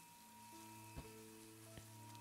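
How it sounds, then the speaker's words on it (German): Steady rain falls in the game Silence, a soft even hiss under sustained musical tones, with two brief thuds breaking through. "Es regnet wirklich."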